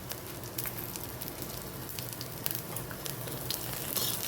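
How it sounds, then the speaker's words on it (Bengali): Panch phoron whole spices hit hot oil in a pan, bubbling into a steady, dense sizzle with quick crackling pops, close and fairly loud, with no voices. "একটু তেল দিয়ে আমি সামান্য একটু পাঁচফোড়ন দিয়ে দিলাম।"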